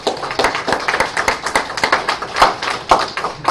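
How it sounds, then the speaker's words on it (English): A small audience claps for a presenter after an educational talk, with distinct, uneven individual hand claps close by, fairly loud and without speech. "Round of applause for Olivia."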